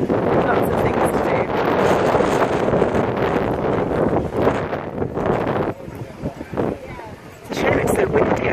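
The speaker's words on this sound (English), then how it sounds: "It's a shame it's so windy" Wind buffets a microphone outdoors in Stratford-upon-Avon on a summer day, a loud, steady broadband rumble that eases briefly midway and then surges again.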